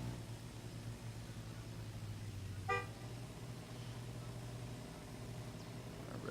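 A car horn toots once, a short clear honk at a racing line before a qualifying run, cutting over a steady low idling hum and outdoor background noise.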